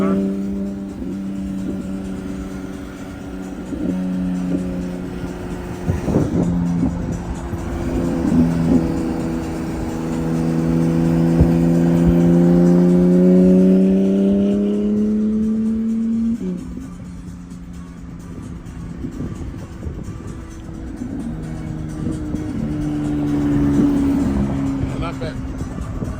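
A Porsche GT3 RS sports car goes by with its engine note climbing and falling in a steady sweep, fairly loud, and voices talk over it.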